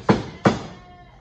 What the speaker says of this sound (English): Here are my lambs.